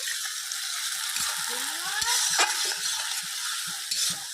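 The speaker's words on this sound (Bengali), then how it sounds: "পেঁয়াজ আর টমেটো আমি একবারে ভালো করে কষিয়ে নেব" Onions and finely chopped tomatoes stir-fried in a pan for a chicken dish, a soft steady sizzle with scraping stirs of the spatula, fairly quiet and close.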